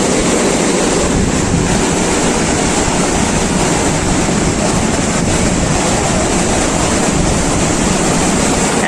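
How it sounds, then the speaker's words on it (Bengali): Sea waves surge at high tide on Mandarmani beach near a resort: a loud, continuous roaring wash mixed with gusting wind, steady throughout with no pauses. "শুনতে পাচ্ছ কি আওয়াজ সমুদ্রের?"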